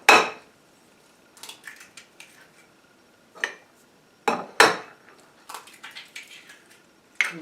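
A utensil beats eggs into instant potato roll dough in a bowl, giving irregular sharp clacks and scrapes against the bowl, some single and some in quick clusters, close up with quiet pauses between.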